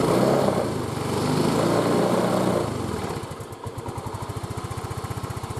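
A Yamaha Mio M3 scooter engine idling up close, first a rough broadband roar, then settling into a steady low, rapid putter with even pulsing.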